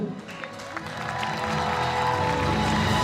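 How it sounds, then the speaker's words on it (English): A crowd applauds a bronze medalist at a para dressage world championship, steady clapping rising slightly in volume over a few seconds, heard from a distance with faint background voices. "Let's give a warm applause for the bronze medal Celine Gurney from Great Britain."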